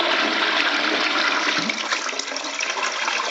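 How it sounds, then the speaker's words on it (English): A toilet flushes close by with a continuous rushing gush of water into the pan, steady for a few seconds with a slight gurgle as it settles. "I'm just going to flush it now and show you that this is how it should be"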